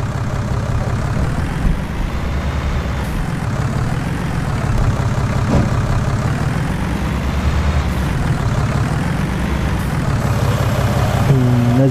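An old tractor in Farming Simulator 20 runs with a steady, heavy low engine drone that holds evenly throughout, loud and close, with no talk over it.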